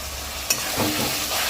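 Chicken pieces with turmeric, salt and spice mix being stir-fried dry in a pan for Chicken Maharani, a close continuous sizzle with a sharp clank of the spoon and scraping stirs, no talking.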